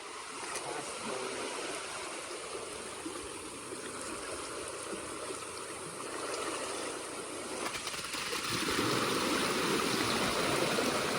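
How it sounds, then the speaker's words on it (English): Steady rushing of creek water along the Appalachian Trail in southern Maine, a continuous broadband flow close by that swells slightly louder toward the end, with no talk. "trying to see how deep this creek is here"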